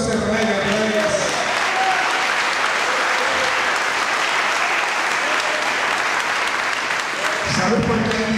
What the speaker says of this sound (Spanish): fuerte aplauso a este René Guerreras.